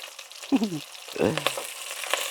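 Fish frying in a pan sizzles steadily, a soft crackling hiss under brief bursts of nearby voices.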